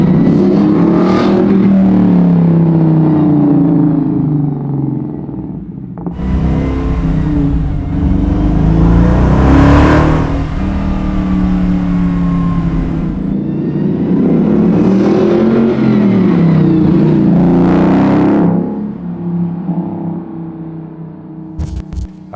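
A Coyote-swapped, flared 1967 Mustang Fastback revs hard on the move, its engine note climbing and falling in repeated surges, loud and close throughout.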